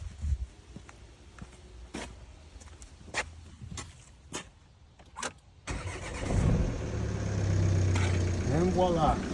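A Volvo V40 with a no-crank, no-start fault, its intake pipe just refitted: a few sharp clicks and taps, then the engine cranks and catches partway through and settles into a loud, steady running rumble close by.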